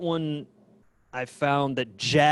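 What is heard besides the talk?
No everyday noise stands out behind the speech.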